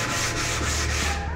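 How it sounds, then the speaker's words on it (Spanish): A sanding block rubs back and forth along the grain of wood in light final passes that soften sharp edges. The scratchy strokes run steadily and fairly loud, close up, with no talk. "Ya como último lijado, ya para matar lo que son los filos y los bordes que no estén filosos, vamos a ayudarnos de nuestro zapito"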